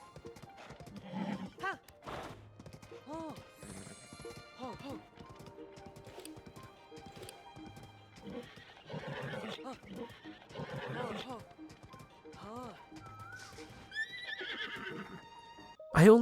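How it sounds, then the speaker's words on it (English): Horse ridden along a beach at sunset in Zelda: Tears of the Kingdom, rhythmic clip-clop of hooves with several whinnies and snorts, mixed under music and a talking voice, ending in a louder burst. "there is truly nothing quite like riding your newfound equine friend along the beach at sunset"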